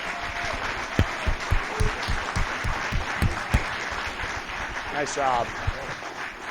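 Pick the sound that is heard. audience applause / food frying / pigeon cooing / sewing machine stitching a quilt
audience applause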